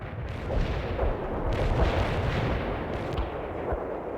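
Artillery barrage in the World in Conflict video game, a dense, continuous roll of deep booms and rumbling blasts that overlap into a loud, sustained bombardment with no voices.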